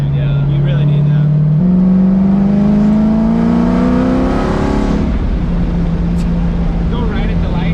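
A modified Corvette C7 Z06 with Valvetronic exhaust revs up from a steady idle, its engine note climbing smoothly for several seconds before dropping back to idle, loud and close from inside the car.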